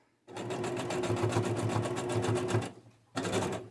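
A sewing machine stitches fabric ruffles in a steady run of rapid needle strokes, pauses briefly, then starts stitching again, close and loud with no talking.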